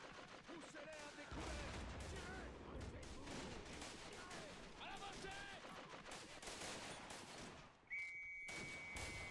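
Dense rapid machine gun fire in a WW1 video game, rattling continuously for most of the stretch with a brief lull, mixed with battle noise and a voice speaking over it.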